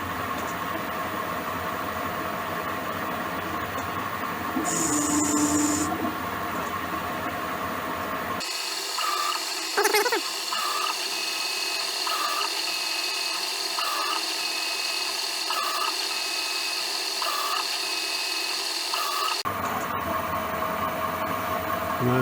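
A Myford 7x7 lathe with an electronic leadscrew makes straight turning passes. A steady machine hum plays under repeated short whines at regular intervals, close and moderately loud, with no talk.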